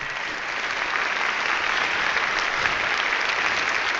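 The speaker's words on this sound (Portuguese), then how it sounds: "uma salva de palmas para essa equipa toda" A crowd gives a team a round of applause, a dense, even burst of clapping that holds steady and fairly loud throughout.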